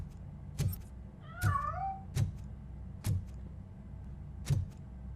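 Cat meowing in the video game Robocop Rogue City: one drawn-out, wavering meow rising over a quiet room, set among several soft dull thuds spaced about a second apart.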